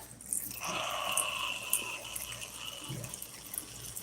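Water is sprayed onto the sides of a roach enclosure and into its water dish, making a steady hissing spray that runs for a few seconds with small splashes, close by and with no talking.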